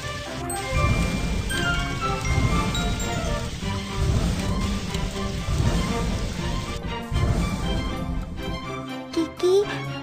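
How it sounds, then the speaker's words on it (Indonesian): A cartoon foam hose sprays onto a factory fire, a dense hissing, rain-like gush with tinkly sparkles, loud and continuous under a light bed of music, with a soft voice briefly present. "Padamkan api dengan pipa semprot busa."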